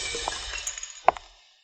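Household items, glass among them, being smashed indoors: a run of scattered clinks and small crashes builds to one sharp, loud glass impact near the end, then quickly fades to quiet.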